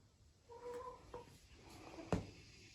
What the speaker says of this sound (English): I got chickens that think that my barn, again, is a cool place to be